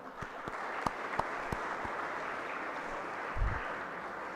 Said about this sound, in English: Friends, this requires a loud applause.